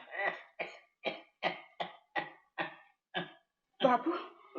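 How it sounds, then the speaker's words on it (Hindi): A series of about nine harsh, forceful coughs from a person with a worsening, persistent cough, evenly spaced and close, ending in a longer rough burst. "तुम्हारी खांसी तो बहुत जोर पकड़ गई है, ठीक होने में ही नहीं आती।"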